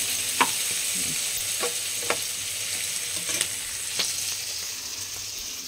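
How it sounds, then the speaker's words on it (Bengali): Fish frying in a pan during home cooking, a steady close sizzle with a few sharp crackles and pops scattered through it and no voices. "এই যে মাছটা ভাজা হয়ে গেছে,"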